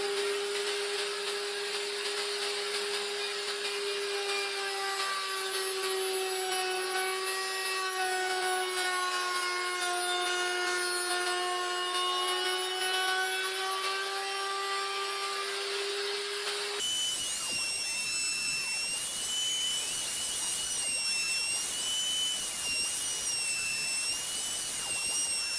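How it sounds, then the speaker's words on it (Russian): A router with a top-bearing bit cuts grooves into wooden shelves, giving a loud, steady high-pitched whine that runs continuously and then shifts to a rougher cutting tone partway through. "С помощью вот такой фрезы с верхним подшипником буду пропиливать такие пазы в полочках"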